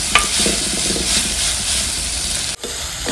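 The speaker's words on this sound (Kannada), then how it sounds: "1 ನಿಮಿಷ ಫ್ರೈ ಮಾಡಿಕೊಂಡ್ರೆ ಸಾಕು." Onions fry in a pan with a loud, steady sizzle and hiss, a few stirring scrapes, and a sudden brief drop in the sound near the end.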